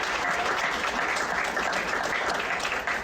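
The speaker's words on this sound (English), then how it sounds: "Can we give them one more round of applause," Applause at a school district governing board meeting: a room of people clapping steadily for about three seconds, moderately loud and even, with no talking over it.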